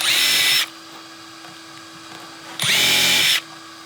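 A power drill whirs loudly in two short bursts into a wood board, spinning up and stopping, with a quiet hum in the pause between.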